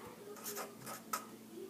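Pen writing numbers by hand on paper for an addition problem, heard as several short scratchy strokes in quick bursts, close and fairly quiet, alone with no talk.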